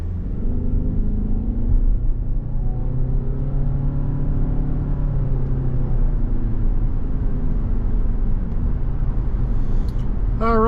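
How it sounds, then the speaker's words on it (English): A 2023 Toyota RAV4 Prime XSE AWD cruises along a road, giving a steady, loud low rumble of road and engine noise with gently shifting tones and no talking. "we are out on the road in this 2023 Toyota RAV4 Prime"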